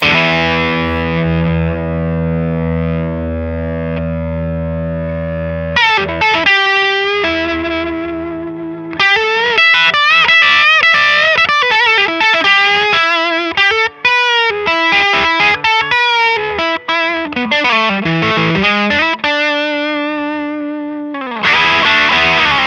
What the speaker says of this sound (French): on prend la guitare, on commence à jouer quelques licks au doigt